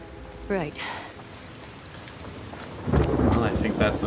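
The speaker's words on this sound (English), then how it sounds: "The thunder, the rain." Thunder rumbles and rain falls in the rainy, flooded city of The Last of Us Part 2, a low roll near the start and a heavier, louder rumble over steady rain toward the end.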